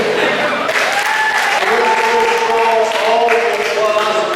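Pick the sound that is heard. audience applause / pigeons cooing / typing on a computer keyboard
audience applause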